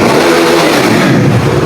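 Close, loud revving from a KTM RC 390 motorcycle engine fitted with a modified exhaust, a sustained rough roar that holds steady throughout.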